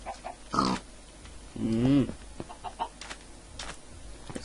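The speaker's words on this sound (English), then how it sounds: "Hello, pig. Let's kill these chickens that are annoying." A Minecraft pig grunts in a short bend of oinks while chickens cluck around it, the animal calls coming in brief bursts with a voice talking lightly in between.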